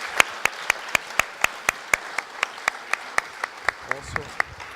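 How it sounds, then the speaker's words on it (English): Steady, evenly spaced hand claps at a conference award ceremony, sharp and close, keeping a quick regular beat for a few seconds rather than the dense wash of full applause. "big applause."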